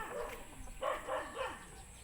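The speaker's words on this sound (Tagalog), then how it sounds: "Nag-ingay na naman ang mga aso." Several dogs barking outdoors at a moderate distance, a short run of repeated yapping barks over a steady background hiss.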